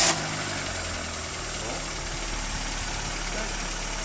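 A broken-down car's engine starts up and then idles steadily, with a brief loud burst at the start and a continuous low rumble that stays close and even after it.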